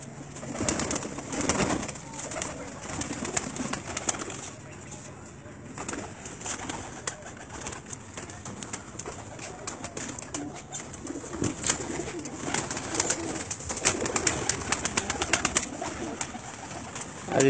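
Domestic pigeons coo on a house rooftop in Gujranwala, Pakistan, with a continuous layered cooing from several birds under a steady outdoor background hiss.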